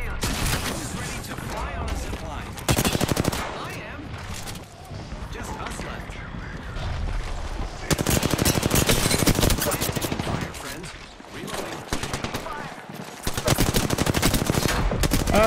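Rapid automatic gunfire from the Apex Legends video game bursts repeatedly in loud, dense volleys with brief pauses between them, while a player talks over the shooting.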